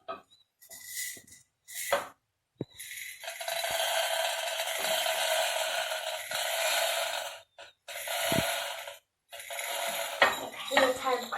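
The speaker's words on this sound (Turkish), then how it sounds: "patlamış mısırımızı dökeceğiz" Popcorn kernels poured into a pot already holding oil, giving a long dry rattling pour with clinks of a spoon and pot around it, in separate bursts with short pauses between them.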